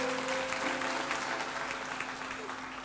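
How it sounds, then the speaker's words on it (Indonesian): Church congregation clapping in praise of Jesus during a sermon, a dense, continuous wash of applause at steady strength with a faint hum beneath. "kasih tepuk tangan bagi Tuhan Yesus."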